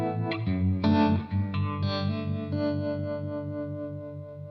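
An electric guitar runs through a JAM Kochness Monster multi pedal with tremolo set to a sine wave, sustained chords pulsing smoothly in volume, several strums ringing out clearly with no voice.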